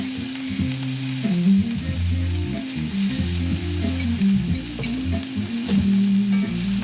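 Onions frying and being stirred in a pan while cooking smothered chicken: a steady, loud sizzle with scraping stir sounds, no talking.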